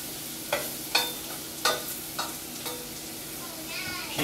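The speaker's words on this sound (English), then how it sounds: "So we're going to put the garlic in there, stir it, constantly stirring for 1 minute." Garlic frying in a hot pan as a spoon stirs it constantly for chicken fettuccine Alfredo, with a bed of steady sizzle broken by a series of distinct scraping strokes every half second or so, near and clear, with no speech.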